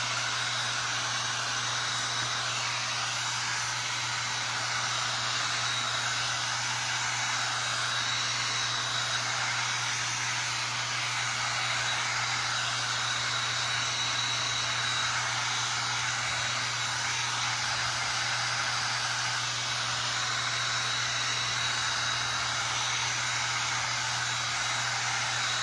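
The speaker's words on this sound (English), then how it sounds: "We're gonna give it another extra drying," A hair dryer blowing steadily on decoupage on a wooden cutting board gives a loud, continuous whooshing drone with a constant low hum, unbroken for the whole stretch and with no voices.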